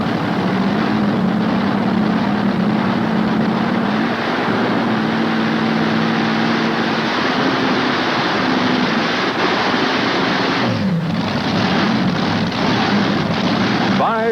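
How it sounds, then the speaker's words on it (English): Tractor pulling at a 1988 event in Louisville, Kentucky, a tractor running five Chevrolet engines roaring loud and continuous with a droning pitch that shifts midway, under an announcer's talk. "There are 5 Chevrolet motors on this tractor."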